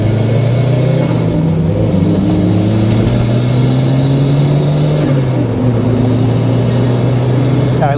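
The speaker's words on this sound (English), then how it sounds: "I love the turbo sounds of this car" A car's turbocharged engine pulls hard under acceleration on a drive, its steady low drone rising and falling in pitch as it climbs through the revs, loud and close throughout.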